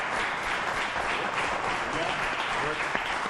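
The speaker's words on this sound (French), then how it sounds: "Je vous demanderai, s'il vous plaît, d'applaudir nos candidats qui se présentent dans la circonscription d'Acadie Bathurst." Steady audience applause for candidates at an Acadie-Bathurst election debate, a dense even wash of clapping filling the room without pause.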